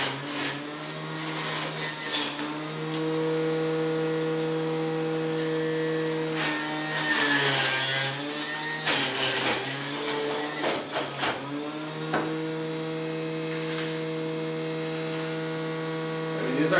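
An electric juicer juicing kale and cucumbers, a steady loud motor hum with a strong low drone, its pitch dipping and straining briefly as produce is pushed through, close and continuous.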